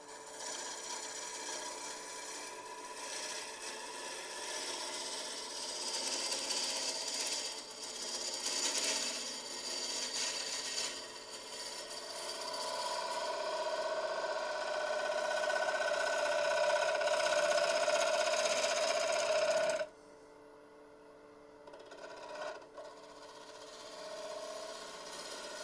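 Turning tool taking a smooth finishing cut on a cherry burl bowl spinning on a lathe, a steady rasping scrape with a rising whine that ends abruptly, leaving quieter workshop noise.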